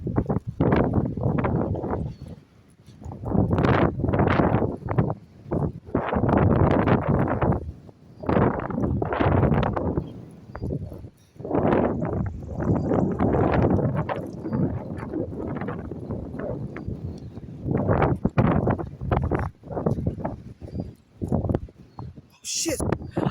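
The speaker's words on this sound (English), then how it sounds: "look at this wind" Strong outdoor wind roars in loud, gusting bursts against the microphone, carrying blowing dust, with a person talking over it throughout.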